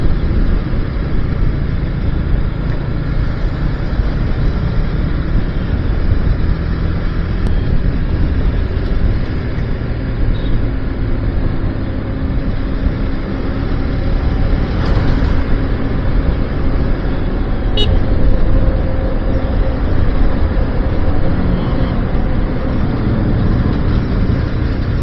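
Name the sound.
road traffic noise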